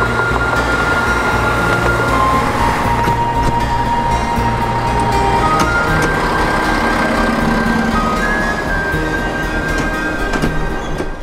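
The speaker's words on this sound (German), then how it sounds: "Ich nehme die Eisenbahn." Regional train running on a railway line in the Bavarian Forest, heard from onboard as a loud steady rumble and engine drone with rising and falling tonal whines, continuous throughout with no talk.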